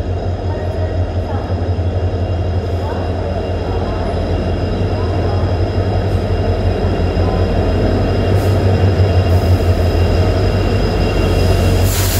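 Goa Express from Hazrat Nizamuddin via Madgaon to Vasco da Gama pulling into platform 1 at Belgaum station, a steady loud rumble of rolling railcars with faint wheel squeal throughout, and a station announcement voice over it.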